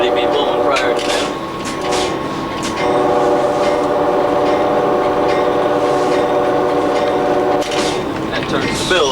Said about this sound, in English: This is a horn, which I'm supposed to already be blowing prior to that.